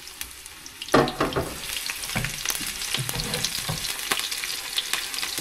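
Onions hit hot oil in a pan for pork binagoongan and fry with a busy crackling sizzle, with stirring clatter and sharp spatter pops throughout, close and fairly loud.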